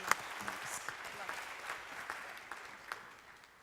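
Fairly quiet applause from the audience at a tech pitch event, steady scattered clapping with a few sharper close claps standing out over roughly three seconds.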